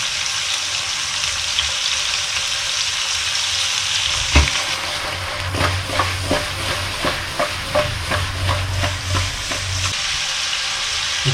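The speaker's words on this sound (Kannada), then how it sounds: "ಎಣ್ಣೆ ನೀಟಾಗಿ ಈರುಳ್ಳಿ ಜೊತೆ ಮಿಕ್ಸ್ ಮಾಡ್ಕೊಳ್ಳೋಣ" Onions frying in hot oil for chicken masala, with a steady sizzle throughout and a sharp clank followed by repeated scraping stir strokes against the pan in an irregular rhythm, close by and with no voices.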